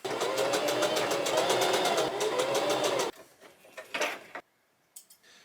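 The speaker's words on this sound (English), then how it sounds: "I'm basically just gonna fold it open and zigzag stitch them down on either side." A sewing machine zigzag stitches down the folded-open seam edges of an old shirt being made into fingerless gloves, running in a steady rapid mechanical whir for about three seconds, then stopping, followed by a few faint handling rustles.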